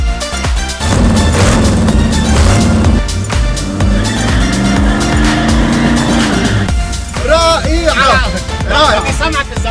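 A powerful 500-horsepower car drives past on a street in Lebanon with a loud, throaty engine roar that rises and falls, while people talk over it.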